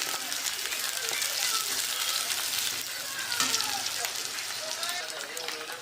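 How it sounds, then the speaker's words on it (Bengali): Onions and chilies fry in hot oil in a pan, a steady crackling sizzle that holds for several seconds, with faint voices in the background. "এটাতে পেঁয়াজ আর মরিচ আছে, একটু অল্প ফ্রাই করে নিছি।"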